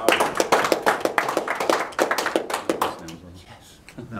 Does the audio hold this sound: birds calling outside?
no